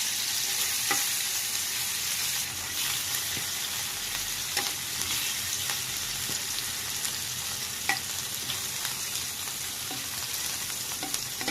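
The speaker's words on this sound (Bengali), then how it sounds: "এখন তেলে নেব শুটকি তার জন্য দিয়ে দিলাম একটু সয়াবিন তেল" Soaked dried fish fries in a little soybean oil, a loud continuous close sizzle with occasional spatula scrapes and taps as it is stirred in the pan.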